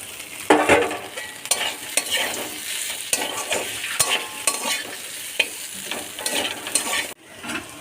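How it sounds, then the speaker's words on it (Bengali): Fried pointed gourd pieces are stirred into a sizzling spice paste of ground ginger in a pan, with repeated spoon scrapes and clacks over a steady fry hiss, ending with one sharp knock. "ভেজে রাখা পটলগুলো দিয়ে দেবো।"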